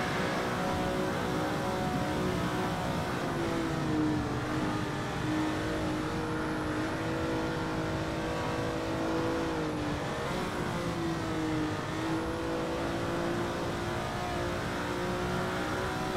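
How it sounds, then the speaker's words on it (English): A Ferrari race car at Spa-Francorchamps in a multiclass racing event holds its engine high in the rev range, a continuous loud drone with shifting pitch for the whole stretch and no other sounds. "Ferrari likes the top of the red rev range"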